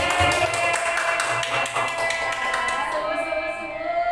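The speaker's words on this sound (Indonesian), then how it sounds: "Ya, tepuk tangan buat Pak Agus." Applause for Pak Agus during a school vision discussion with teacher candidates: a brief, steady round of clapping from a small group in a room, moderately loud, with faint talk underneath.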